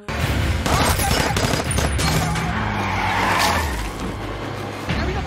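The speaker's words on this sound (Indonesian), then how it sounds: "Danny dan Hunter yang langsung menembaki mobil anti peluru" Rapid bursts of gunfire pound a bulletproof car during a film action scene, dense cracking volleys mixed with tire squeal and skidding, loud and continuous, then a brief lull before one more burst.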